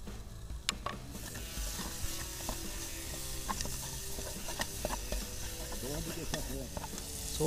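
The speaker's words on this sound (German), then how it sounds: "hier der Speck ist schön angebrutschelt und jetzt kommen da die Zwiebeln, Knoblauch und die Chili rein" Bacon sizzles and spits in a pan while being cooked for chili con carne, a loud continuous frying hiss with occasional stirring scrapes and clinks, close by, with no talking.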